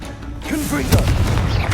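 A Confringo blasting spell from Hogwarts Legacy goes off in a loud, deep boom with a thudding, crackling tail, close and dominant, with a voice shouting over it.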